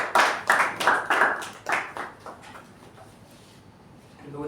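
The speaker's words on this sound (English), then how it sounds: "Do with a louder round of applause, please" A small audience at a Toastmasters meeting claps, a few loud, close bursts of clapping that quickly fade to quiet room noise, then a faint voice returns at the end.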